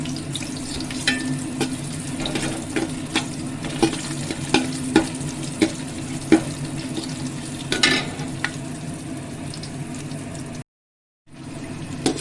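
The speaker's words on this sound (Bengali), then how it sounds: "কাজু কিশমিশটা একটু ভেজে নেবো" Cashews and raisins frying in oil in a pan with bay leaf, cumin and dried and green chillies, giving a steady crackling sizzle with repeated regular ladle stirs and clicks, close, then a brief cut to silence near the end.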